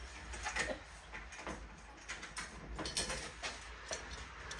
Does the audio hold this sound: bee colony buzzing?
no